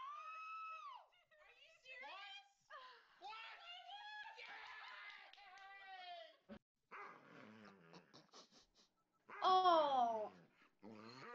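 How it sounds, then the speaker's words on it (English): A dog in a played video clip gives a run of whining, yowling and growly vocal bursts with pitch swoops, broken by short pauses and ending with a louder, strained outburst. "That dog is on something."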